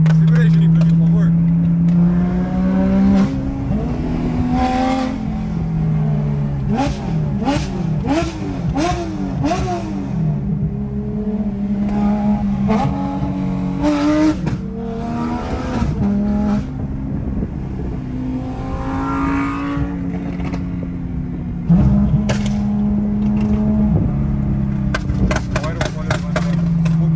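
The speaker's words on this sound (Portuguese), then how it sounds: "só quero escutar o ronco do carro só" A loud car engine on a drive in Miami roars and revs repeatedly, with rising and falling bursts over a steady rumble, while people talk over it.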